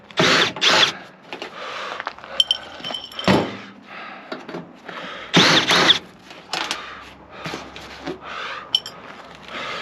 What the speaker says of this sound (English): So I'm going to only remove the screws that are on this side.